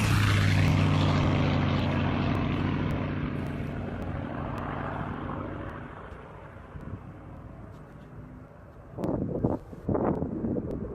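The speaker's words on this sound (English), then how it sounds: "This plane creating a cool smoke effect after flying by" A propeller plane roars past at close range, loud at first and fading steadily as it pulls away, followed by gusty wind bursts near the end.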